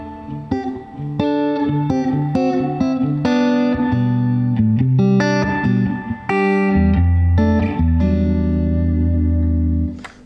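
Clean electric guitar through a Music Man 212 HD 130 combo amp, chords ringing out with a splashy spring reverb tail, loud and close.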